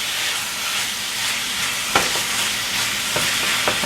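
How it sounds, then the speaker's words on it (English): Seasoned taco meat browns in a hot pan with a steady, close sizzle and hiss, broken by a few sharp spatula scrapes and pops. "we're going to add in a little bit of the seasoning, just like that. Okay, and we're going to let this brown up"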